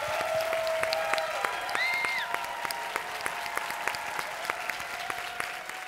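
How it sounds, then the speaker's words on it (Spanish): Sustained applause from a television talent-show audience after a singing battle, dense steady clapping with crowd noise and a few sustained musical tones ringing underneath, no talk. "Una ovación para ustedes de nuevo,"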